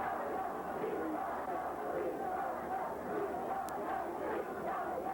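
At a 1982 world championship rowing regatta in Lucerne, spectators along the course cheer and shout in a continuous roar, with a commentator talking over them.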